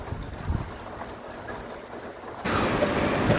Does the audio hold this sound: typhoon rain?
yes